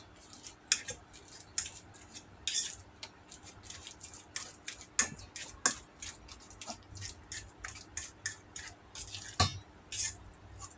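Banana being mashed for a carrot banana cake batter in a large mixing bowl, with scattered scraping and tapping strokes of a utensil against the bowl in an irregular rhythm, close and fairly quiet.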